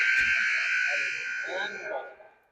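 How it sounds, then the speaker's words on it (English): A sustained electronic buzzer sounds at a youth hockey playoff game, a steady loud drone that trails off after about two seconds while voices murmur underneath. "So there's a buzzer."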